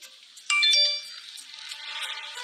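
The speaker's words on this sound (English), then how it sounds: "It sounded like a phone." A tablet ringtone sounds from a bedroom, starting with a bright electronic chime and continuing as a fainter melodic ringing tone, with no one speaking.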